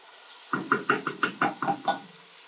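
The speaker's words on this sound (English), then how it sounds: "Mix it, stir it well." A spoon stirring seasoning into tomato and oil in a cooking pot for Afghani aash soup, about eight quick rhythmic knocks and scrapes against the pot, close and clear with no talking.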